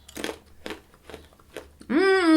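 Four crisp crunches come from biting and chewing a fried haba (fava) bean snack, spaced about half a second apart and close to the mic, followed by a voiced hum.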